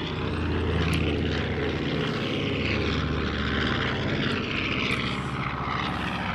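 A propeller airplane roars overhead at an air show in a loud, continuous drone, steady throughout with a buzzing engine tone.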